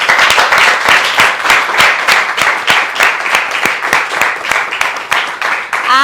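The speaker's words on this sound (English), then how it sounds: "let's have a huge round of applause for Kangana" Dense, steady applause from an audience after a film screening, ahead of a Q&A. Many hands clap close and loud for the full six seconds with no break.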